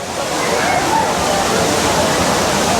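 Five Falls at Courtallam pours down in a heavy, continuous roar of rushing water, loud and steady throughout with no break.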